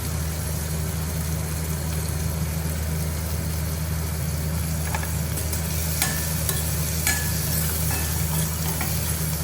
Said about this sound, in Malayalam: ഇതോടൊപ്പം തയ്യാറാക്കി വെച്ചിരിക്കുന്ന ചിക്കനും കൂടെ ഇട്ട് വഴറ്റുക